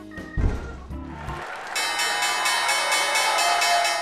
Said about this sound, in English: You know what that bell means.